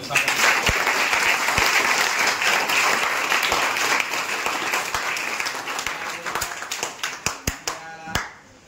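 An audience applauds loudly to welcome a woman civil judge at a public event marking anti-drug day, with sustained clapping that thins into scattered individual claps at the end.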